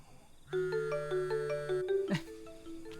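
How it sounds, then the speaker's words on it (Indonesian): A mobile phone ringtone plays a quick melodic sequence of electronic tones indoors in an Indonesian drama, moderately loud, with a short sweeping blip near the end and no speech over it. "HP siapa tuh bunyi? HP Nia."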